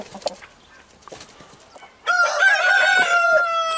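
A rooster crows loudly and near, one long strained call that starts after a stretch of quieter clucking and scratching sounds from a yard of birds.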